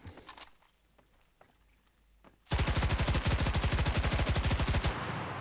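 Submachine gun firing in the World War II shooter game Enlisted, Normandy setting: a long, loud, rapid automatic burst of about two and a half seconds, after a quieter stretch of faint distant shots.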